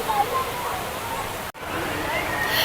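The fourth tier of Nam Tok Chet Sao Noi waterfall, in a Thai national park, rushes in a steady broadband wash of falling water, broken by a brief cut partway through, with someone talking over it.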